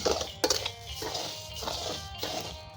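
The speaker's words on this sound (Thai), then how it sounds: "ข้าวคั่ว ข้าวคั่วคั่วให้มันแดง" Rice is dry-roasted in a pan and stirred, giving scattered scraping and clinking sounds with a few sharper taps at an irregular pace, close up and without talk.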